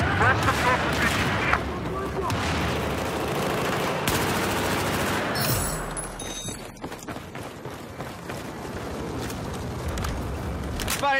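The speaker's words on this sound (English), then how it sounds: "Attention! Hostile machine gun!" Hostile machine gun fire in the Battlefield 4 video game, rapid distant bursts and booms layered under game voice callouts and battle noise, continuing throughout with a sharp burst midway.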